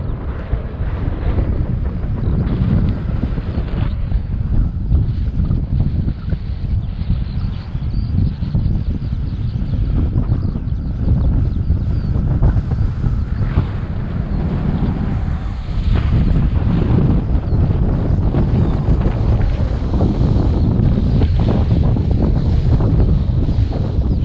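Strong wind buffeting a microphone on an open hillside slope, a steady loud roar with gusty rumble that continues throughout and swells further near the end.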